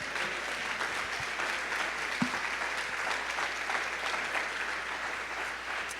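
Church congregation applause, a broad, steady roar of many hands clapping at moderate distance, continuous and even for the whole stretch with a faint low hum beneath.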